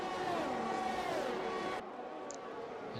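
F1 race cars in the F1 2021 video game run side by side with a loud, high engine whine that cuts off abruptly partway, leaving a quieter background hum.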